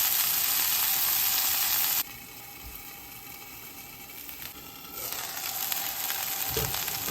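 Vegan scallops fry in a pan with a steady sizzle that drops in level partway through, then rises again, with a few soft knocks from handling.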